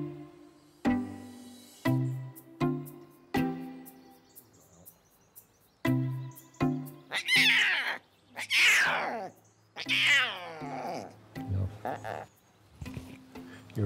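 Newborn tiger cubs crying during their first health check and vaccinations: repeated short, loud mewing squalls in bursts, some rising into longer strained wails, with a person talking at moments nearby.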